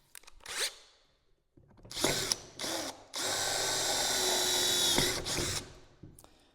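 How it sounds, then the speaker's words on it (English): An electric drill boring clearance holes fires in several short bursts, then runs in one longer steady whine, with brief pauses between each pass. "we're going to drill those clearance holes first"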